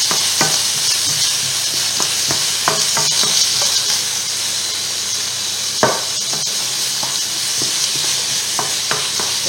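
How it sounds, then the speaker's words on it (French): Carrots stirred in a cooking pot over a steady sizzle, with repeated scraping and knocking of a utensil against the pot at an uneven pace, close and fairly loud. "Et on remue."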